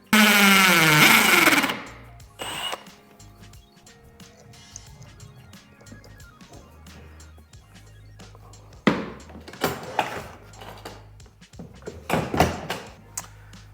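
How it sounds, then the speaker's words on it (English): A drill whines loudly for a couple of seconds boring a 1/4-inch hole through plastic, followed by scattered knocks, clatter and handling noises close by, with more bumps near the end. "now we're just gonna drill a 1/4-inch hole through this plastic"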